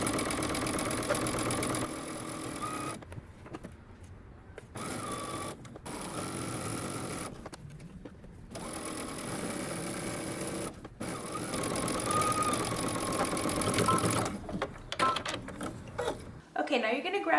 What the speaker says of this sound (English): now we're going to stitch all the way around using 5/8 of an inch seam allowance